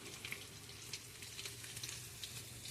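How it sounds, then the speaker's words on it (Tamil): Fish fries in a pan as part of a fish curry cook-up, a soft continuous sizzle with faint crackles and pops, quiet and steady with no voices. "மீன் வறுவல் ரெடி ஆகிட்டுருக்கு."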